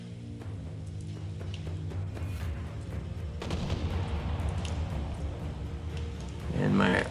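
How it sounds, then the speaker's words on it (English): Artillery fires in a game of Empire: Total War as a string of low booms and rumbling blasts runs through a busy battle soundscape, with a heavier burst near the end. "And my artillery firing down on the enemy."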